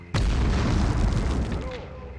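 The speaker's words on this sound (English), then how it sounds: "I threw the grenade and the radio exploded from the impact from the grenade" A grenade and a radio blow up in the PlayStation shooter Medal of Honor: one sudden loud boom that rumbles and fades over about two seconds.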